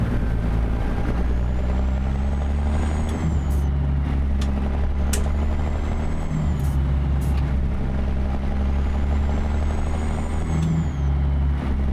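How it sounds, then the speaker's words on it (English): A Peterbilt truck with a 3406B engine and an aftermarket sound pack in American Truck Simulator rumbles loudly and continuously, with a deep steady engine drone and several sharp air-brake hisses and rising whines repeating over the twelve seconds. "So we got the new Peterbilt sound effect pack going here."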